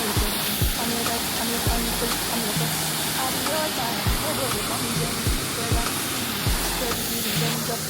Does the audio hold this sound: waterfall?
yes